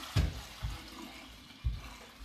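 Liquid poured into a kitchen sink splashes and trickles steadily, with a few low thuds against the basin, close and moderately loud.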